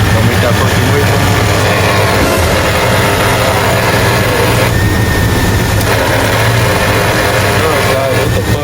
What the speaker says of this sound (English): I found that it was the power steering pump, and it wasn't the alternator after all